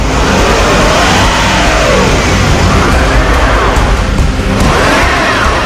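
A vehicle engine is run hard with heavy throttle in a Turkish-dubbed action film set in the polar cold, a loud, continuous roaring rev that rises and falls in waves for several seconds.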